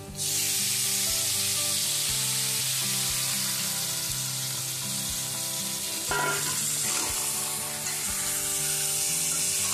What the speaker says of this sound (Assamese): এতিয়া মই মাংসখিনি দি দিম।